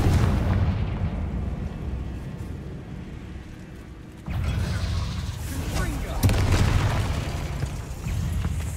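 Confringo fire spell blasts in the video game Hogwarts Legacy, with booming explosive bursts partway through and again near the end over ongoing rumble, while a voice speaks.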